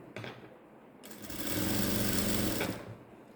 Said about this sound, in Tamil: இந்த சென்டர் கரெக்டாக இந்த இடத்துல வச்சு இப்படி பிடிச்சிட்டே தைச்சிட்டு வாங்க